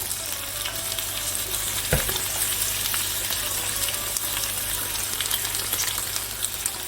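Red tuna steak sizzling and frying in a hot pan, a steady close crackle with one brief clatter near the two-second mark.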